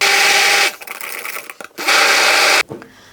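An immersion blender runs in two loud, close bursts while mixing sour cream, 33% cream, cheese and sugar in a bowl, with a short gap of clatter between bursts and a sharp stop.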